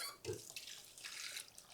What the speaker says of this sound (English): I'm getting just warm tap water